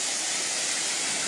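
A continuous loud hiss of falling water pours from a waterfall nearby, an unbroken broadband rush with nothing else standing out.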